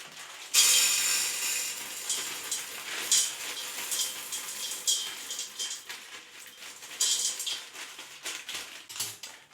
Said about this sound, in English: we're just going to put them into the pot. We're going to swish them around, make sure that we rinse them well